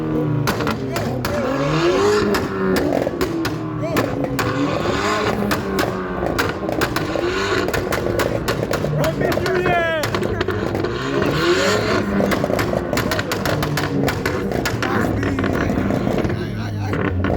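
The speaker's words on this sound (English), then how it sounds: "Redlining the car." Car engine at a car meet revving hard toward the redline, loud and close and sustained, with rising and falling engine harmonics, mixed with people talking and shouting over it.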